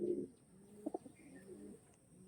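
Flying-line pigeons cooing at close range, a few soft low coos in a quick cluster over a quiet background, with no voices.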